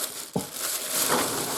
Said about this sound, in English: I've put it all in a big plastic bag